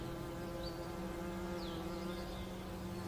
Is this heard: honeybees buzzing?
yes